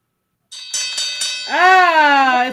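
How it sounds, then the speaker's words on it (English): A boxing fight bell rings as a played sound effect: several quick sharp strikes at the start, then one long sustained bright ring that holds steady and loud until the end, with no talk over it. "It's the fight bell."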